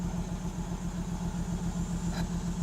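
A 1992 Lexus ES300 with a five-speed gearbox idles quietly up close, a low, smooth, even engine hum that holds steady throughout with no revving.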